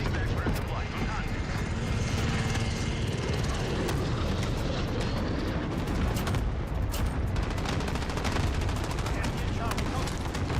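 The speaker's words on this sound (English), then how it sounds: "Allied cluster strike incoming." Aircraft drone and a steady barrage of explosions and gunfire from an allied cluster strike in the video game Modern Warfare, dense and loud throughout, with radio-style voice callouts mixed in.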